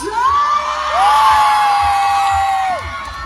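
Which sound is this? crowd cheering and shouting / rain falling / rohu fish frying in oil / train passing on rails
crowd cheering and shouting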